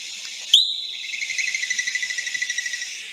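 A squirrel's alarm call opens with one sharp, high note and then rattles into an even run of about fifteen quick, pulsing chirps, close and clear with nothing else around.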